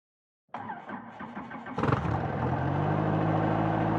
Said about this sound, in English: we can just start the engine by pressing the starter